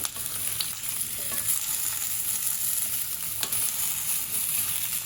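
Washed, strained potato pieces for aloo methi being stirred in a hot pan, a steady bright sizzle of frying with occasional scraping stirs, close and continuous.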